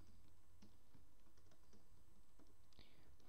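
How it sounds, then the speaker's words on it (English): Keys tapping on a computer keyboard while an SQL query is entered, scattered clicks at an uneven pace, quiet and close under a low steady room hiss. "and then we can type our query"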